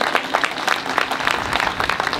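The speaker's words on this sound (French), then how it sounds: "et qui mérite une bonne main d'applaudissement." Applause from an audience at a Moroccan Throne Day celebration in Montreal, steady dense clapping throughout with a faint crowd murmur underneath and no speech.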